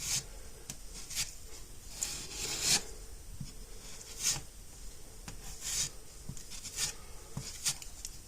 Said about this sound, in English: I'm just going to go ahead and make sure I smash it in to any of the holes like this